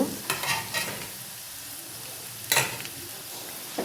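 Semolina upma is stirred in a pan. Three or four short scraping strokes sound close up over a quiet, faint sizzle, with pauses between them.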